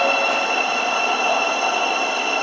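Class 700 electric multiple unit on the Brighton service pulling out of London St Pancras International, a steady broadband hum and hiss with sustained high tonal whine, loud and continuous throughout with no talk.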